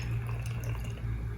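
Plain tap water trickles steadily through a tiny funnel into a bottle, a soft continuous pour heard up close with no talking.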